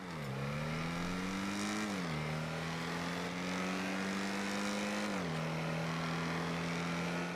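Sports car in GTA V with turbo on, its engine droning loud and steady as it accelerates, pitch climbing, dipping on two gear shifts, then climbing again, with no talk over it.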